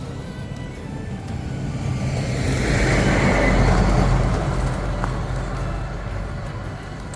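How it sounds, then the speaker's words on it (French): A truck passes on a country road near the village of Verrières, its broad engine and tyre rumble rising to a peak and then slowly fading, with no talk over it. "Il y a un camion."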